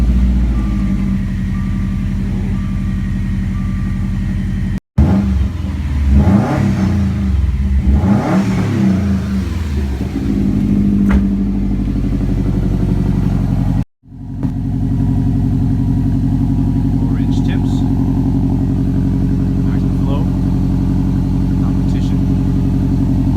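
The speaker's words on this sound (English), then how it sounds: "Magnaflow competition with the muffler delete. 3-inch piping," A 2016 Subaru WRX STI with a Magnaflow Competition catback, muffler delete, 3-inch piping and 4-inch tips cold-starts and settles into a loud, deep, burbling high idle, with a few revs near the start, heard close and alone.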